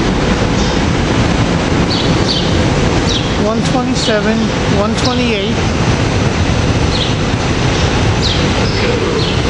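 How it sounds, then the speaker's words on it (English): A West Trenton local train moves through 30th Street Station at rush hour with a loud, continuous rumble, rail clatter and brief squeals, while someone talks over it. "We got a West Trenton local train with rail cars 280"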